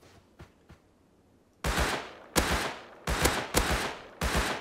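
Gunfire from the survival game Rust: a few faint distant shots, then a run of loud, close, sharp rifle blasts, mostly single, some in quick pairs, with no talking over them.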